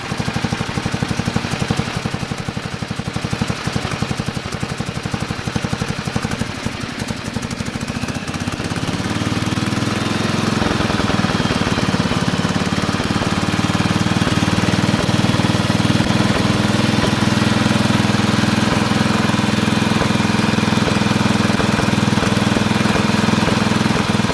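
A Wisconsin S8D engine on a 1969 Bolens 850 garden tractor, one with starting problems, runs loud and close, a continuous rough drone that deepens and grows heavier partway through as the throttle comes up.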